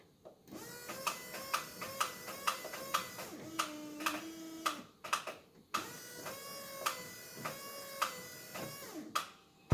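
A newly installed wiper motor on a 1991 Ford F250 with the 7.3 IDI diesel runs quietly, its whirring hum punctuated by regular clicking thumps as the wipers sweep back and forth, with a brief pause midway.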